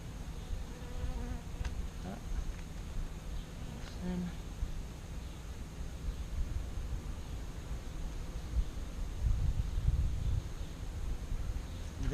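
Honeybees hum in a continuous soft swarm around an open hive frame of brood, a faint, steady buzz with occasional closer passes.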